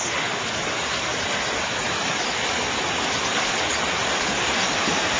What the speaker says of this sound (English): Here comes Pam right through this rapids.